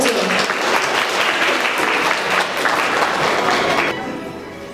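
A school audience at a student talent contest applauds to welcome a tenth-grade student performer: dense, loud, continuous clapping that fades out near the end.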